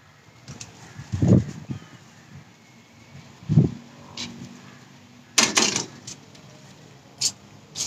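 Pigeons kept by a fancier in Pakistan, with scattered wing flaps and low coos around a home loft; several bursts of flapping stand out near and loud against a quiet background, separated by soft calls.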